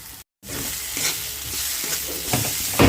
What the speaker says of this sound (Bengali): এবার এটাকে খুব ভালো করে কষিয়ে নেব